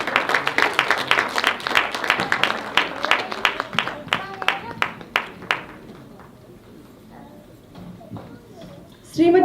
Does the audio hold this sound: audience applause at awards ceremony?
yes